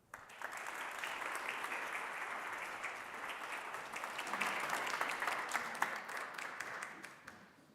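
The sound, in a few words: audience applause after a talk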